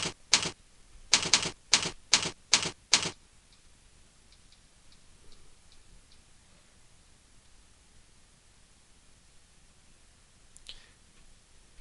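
Keys on a computer keyboard tapped out as a password, a quick burst of crisp close clicks over about three seconds, then near silence with faint ticks and one brief soft rustle near the end.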